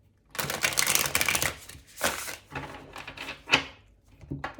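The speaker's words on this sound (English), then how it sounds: "Okay, I'll give the deck one last shuffle." Several bursts of riffling card shuffles, crisp and close, with short pauses and a few taps between them.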